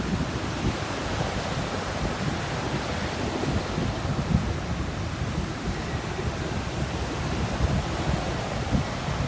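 Steady, rushing wind noise buffeting the microphone, loud and continuous without any letup, at a forest fire near Patara, Turkey.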